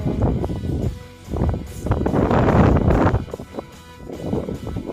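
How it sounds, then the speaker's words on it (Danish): Wind buffets the microphone outdoors in uneven gusts, loud low rumbling bursts that swell and fade several times with short lulls between. "det blæser lidt"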